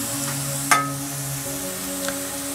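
Onions sizzling steadily in a pan as ginger garlic paste goes in for a homemade soyabean sabji, a soft even frying hiss with one sharp clink of a spoon and a fainter tap later.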